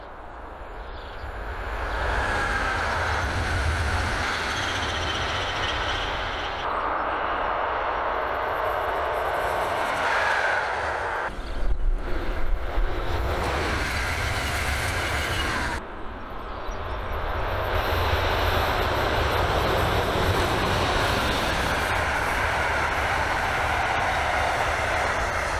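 Trains passing on parallel tracks, a loud continuous rumble and rushing roar that stays dense throughout, with a brief break and clattering as carriages go by, heard from nearby without speech.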